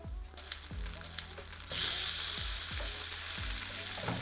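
Tofu fries on a griddle with a steady, quiet sizzle. The sizzle grows fuller and brighter partway through, and soft low knocks recur about once a second.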